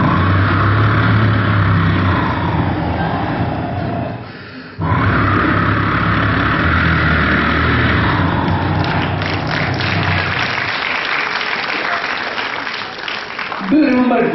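A voice imitates a Honda Activa scooter engine, a continuous buzzing, revving drone that dips briefly mid-way, then carries on with rough, sputtering texture before it fades out.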